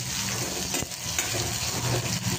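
Onions and raw mango pieces fry in a pan, giving a steady close sizzle with brief stirring scrapes and no voices.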